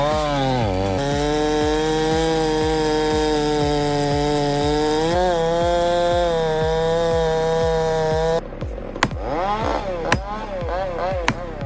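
A chainsaw runs steadily at high revs while cutting a tree, loud and close throughout, with the engine pitch dipping and rising as the blade bites, then sharper knocks and revving near the end.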